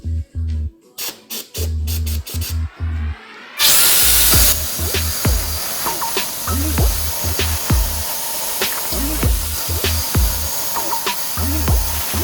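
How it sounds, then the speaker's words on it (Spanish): A loud power tool cuts pieces for a desk base, starting after a few rhythmic knocks, then running with a continuous roar and repeated pitch dips as it bites into the material. "Ahora vamos a cortar todas las piezas que necesitamos para hacer el escritorio"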